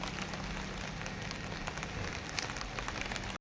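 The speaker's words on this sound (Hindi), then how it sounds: "लेकिन फिर से आ गई है बारिश" Steady rain pours down on a wet winter day, a dense continuous hiss with scattered heavier drops spattering on surfaces, close and even throughout.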